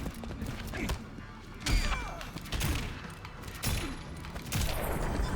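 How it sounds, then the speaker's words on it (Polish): Quick bursts of pistol gunshots crack in clusters, with thuds and mechanical clicks between them, a busy fighting-game firefight in Injustice 2 at moderate loudness. "Szybkie strzały z pistoletu zadecydowały."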